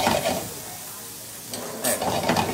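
Escarole sautés in a pan of garlic and olive oil with a continuous close sizzle, swelling into brief scraping stirring bursts at the start and again near the end.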